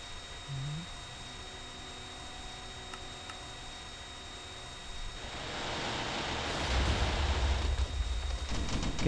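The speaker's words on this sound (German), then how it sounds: "Da ist ein Heli, da ist ein Heli." Helicopter in the Minecraft game approaches, its rotor and engine noise rising from a faint background hum to a loud, rough, sustained roar over the final seconds.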